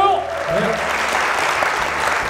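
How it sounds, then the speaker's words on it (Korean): A crowd applauding steadily, a dense wash of clapping that holds its level throughout, with a faint voice briefly audible at the start. "우리 응원의 박수 한번 좀 보내주세요"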